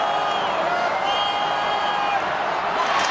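Crowd at Murrayfield during a Scotland v Ireland rugby match in 2007, a dense, continuous roar of thousands of voices filling the stadium, with a commentator's voice over it.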